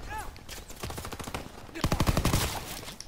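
PPSh-41 submachine gun firing in Call of Duty WW2, a rapid automatic burst of rattling shots up close, with shorter gunfire earlier amid game sounds.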